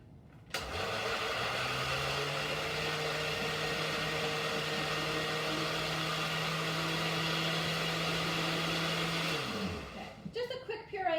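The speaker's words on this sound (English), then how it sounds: "I'm going to just dump them in my blender" A blender purees fresh blueberries, running at a steady, loud whir for about nine seconds before spinning down and stopping.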